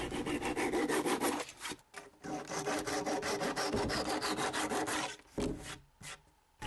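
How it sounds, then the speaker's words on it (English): Steady back-and-forth rasping of a flush trim saw cutting through small wooden pegs on a walnut coffee table, continuous strokes with two brief pauses, close and clear. "I can use a flush trim saw to cut the extra length off the pegs."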